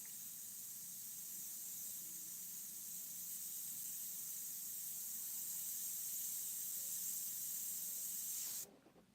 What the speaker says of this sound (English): See if I can do it with the airbrush.